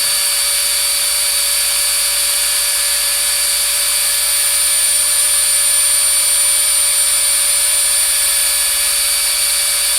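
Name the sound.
home-built Arduino CNC machine carving a name sign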